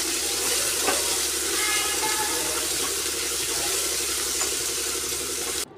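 Two medium finely chopped onions frying in oil over a medium flame for pav bhaji, a steady dense close sizzle running throughout with no talk.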